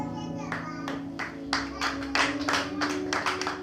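A church audience claps for a Sunday school teacher being introduced, with bursts of applause swelling over a steady background hum and fading in and out across several seconds.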